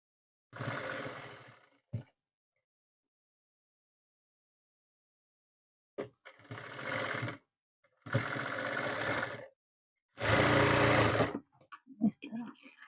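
A sewing machine stitches a shirt in several bursts of steady mechanical whirring, each lasting one to two seconds, with short silent pauses between them and a few clicks near the end.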